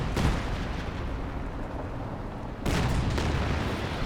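A building blown apart by an explosion in Company of Heroes 2, a dense, steady roar of battle noise with a sudden louder burst of blast and debris partway through.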